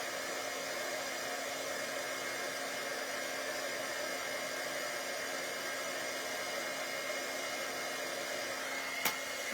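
Steady hiss and whirr of a heat gun embossing a card panel runs continuously at moderate level for the whole stretch, with a single faint click near the end and no speech.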